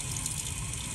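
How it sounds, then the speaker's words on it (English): Tap water runs steadily over the bristles of a paintbrush being cleaned, a close, continuous splashing rush with no talking. "we're gonna run some water and we're gonna run our bristles under that water"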